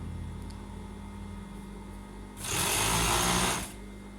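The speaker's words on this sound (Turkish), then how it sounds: "Penyemi temizleyerek dikiyorum." A sewing machine whirs in a short burst of just over a second, stitching elastic into a pair of pajamas, after a quieter stretch of low background hum. Close and fairly loud while it runs.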